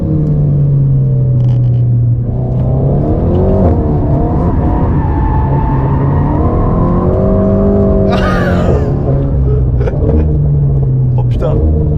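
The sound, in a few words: Alpine car accelerating after shifting into second gear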